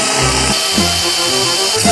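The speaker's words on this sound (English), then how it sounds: "We drilled her, y'all. Drilled her down." A power drill bores into a go-kart part in a home workshop, loud and close, with the motor surging and easing in short repeated bursts as the bit bites in and backs off.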